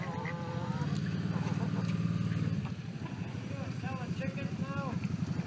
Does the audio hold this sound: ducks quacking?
yes